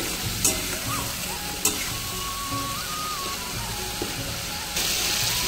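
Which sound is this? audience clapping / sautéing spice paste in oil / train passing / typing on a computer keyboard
sautéing spice paste in oil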